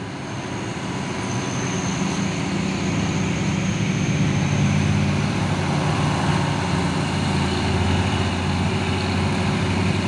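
A tanker truck drives along a road, its engine a steady, loud, low rumble that holds evenly throughout with no pauses and no talk.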